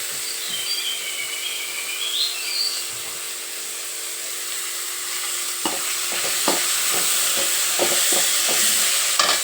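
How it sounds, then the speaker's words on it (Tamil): Tomatoes sauté in a pan for chicken gravy under a steady, loud sizzle, with a run of quick scraping stirs in the second half. "தக்காளி நல்லா வதங்க அதில் கொஞ்சமாக மஞ்சள்தூள் போட்டுக்கலாம்."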